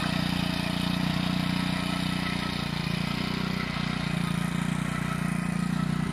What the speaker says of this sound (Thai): มาแล้วรถไถน้อย